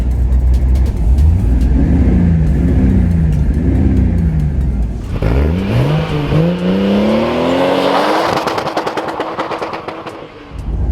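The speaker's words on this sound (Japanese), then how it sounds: "バーンアウトしちゃったんだよね" Toyota Supra on a public road revs hard during an unintended burnout, engine pitch sweeping up repeatedly through shifts, loud and close, ending in a harsher, noisier burst with no talk.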